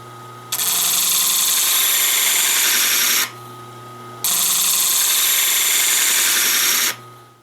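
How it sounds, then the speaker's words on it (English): A power grinder sharpens a plane blade in two long bursts of loud, steady, high-pitched grinding, each separated by a short lull where the motor hum continues alone. "you just continue to work this blade until you get a nice even grind all the way across"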